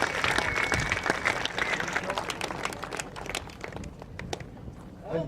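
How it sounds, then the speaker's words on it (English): Crowd applause rings out for Roy, a fishing tournament angler sitting in fourth place at the weigh-in, a dense steady wash of clapping that holds for several seconds and thins toward the end, with voices murmuring underneath. "Let's give Roy a big round of applause."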